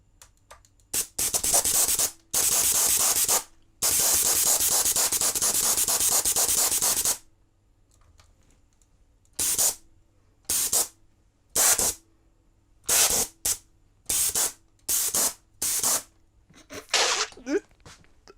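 A gas thruster on a drone fires in loud bursts of broadband hissing, one long roughly four-second blast followed by a series of short, sharp puffs, close and loud with brief quiet gaps between them.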